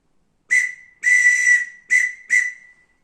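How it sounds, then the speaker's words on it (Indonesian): Four sharp whistle blasts in a quick Hizbul Wathan scout signal pattern ring out close and loud, the second held noticeably longer than the others, each a clear shrill tone on a silent background. "Itu semboyan dengan peluit."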